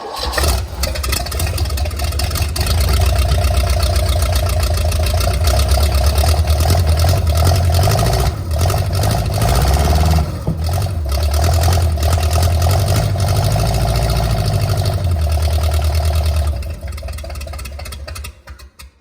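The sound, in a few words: Mercruiser 454 marine engine running on bench start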